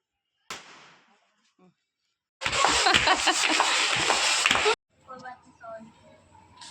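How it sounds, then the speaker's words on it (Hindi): A sharp pop, then a sustained loud crackling fusillade of firecrackers set off by children at the Igas festival in Garhwal, bursting for about two seconds, followed by people talking nearby. "बच्चों ने ये देखो कैसे फोड़ रहे पटाखे"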